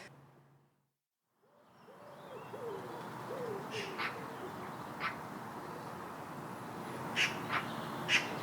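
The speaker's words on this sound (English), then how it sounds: "Wood pigeons calling in the background" Soft, muffled cooing calls of wood pigeons repeat in the distance over steady outdoor background noise in a Hampshire, UK neighbourhood, with a few brief higher chirps from other birds, including magpies.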